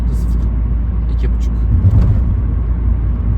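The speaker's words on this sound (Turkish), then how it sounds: "Ama bak yollar bozukken nasıl ses yapıyor zaten." Low rumbling road noise inside an Opel Astra 1.3 CDTI moving at 80 km/h in sixth gear, with occasional rattles and knocks as it rolls over a rough, broken road.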